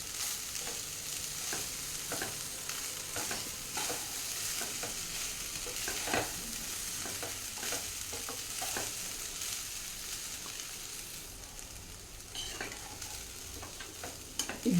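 Schezwan rice stirred in a hot pan, with steady sizzling and repeated scraping strokes of a spatula at an uneven rhythm, close and fairly quiet throughout.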